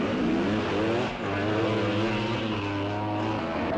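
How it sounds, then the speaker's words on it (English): Motocross motorcycles race at high speed over rough terrain, engines roaring and droning steadily throughout, loud and close, with no speech. "better than 90 miles an hour over the roughest terrain in motocross racing history"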